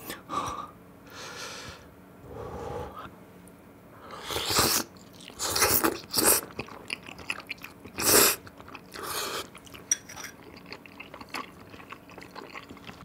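Someone eats very spicy Yeopgi tteokbokki with gopchang and gimmari up close, with wet chewing and bursts of loud biting and crunching, plus sharp breaths and snorts between mouthfuls.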